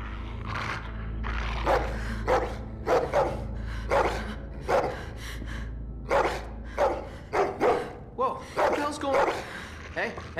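Dog barking in The Walking Dead video game, a run of repeated loud, close barks coming in uneven bursts that grow quicker toward the end.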